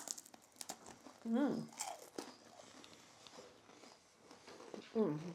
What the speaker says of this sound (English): Mini milk chocolate wafer cones. Oh, they're crunchy.